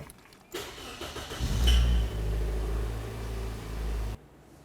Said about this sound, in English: let's go ahead and start up the car. Let it run for approximately 30 seconds and turn it off.